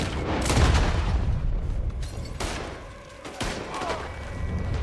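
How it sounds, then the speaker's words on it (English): A Red Dead Redemption 2 gunfight crackles with scattered rifle and pistol shots, sharp isolated cracks and booms spread over several seconds against a rumbling background of battle. "Looks like we're shooting our way out of here"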